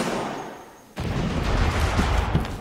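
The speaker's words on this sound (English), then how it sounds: "Why do I hear explosions?" A sudden loud blast in the video game Resident Evil: Operation Raccoon City breaks the quiet, followed by a continuing rumble of distant booms and crackling gunfire-like bursts.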